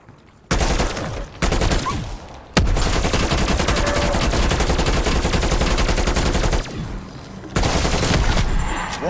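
Sustained heavy automatic gunfire in the Call of Duty Cold War Zombies video game, long dense bursts filling the mix with brief pauses between them, loud and close.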